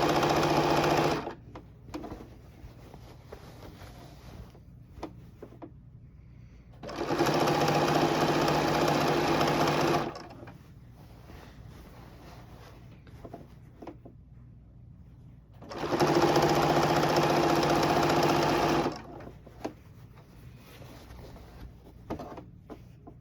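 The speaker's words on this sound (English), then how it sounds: "speed this up for you so you're not being bored watching me stitch around this quilt" A sewing machine stitches binding around a quilt in three separate bursts of about three seconds each. It gives a loud, fast, even whirring with quiet pauses between runs.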